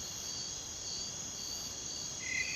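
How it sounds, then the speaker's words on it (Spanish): A layered chorus of crickets built up as film sound-design ambience, a dense, steady high-pitched trill that keeps going, with another cricket voice joining near the end and no talking. "es una serie de grillos que se fue construyendo"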